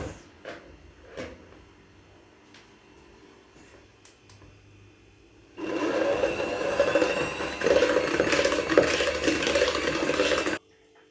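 An electric mixer whisks sugar for cake batter, kicking in after several seconds of near-quiet and whirring loudly and steadily for about five seconds before cutting off.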